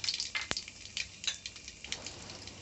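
Mustard and cumin seeds sizzling in hot oil in a kadai, with a faint, steady crackle and a few sharper pops, quiet and alone.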